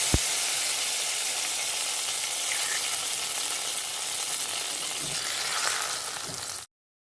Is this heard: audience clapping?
no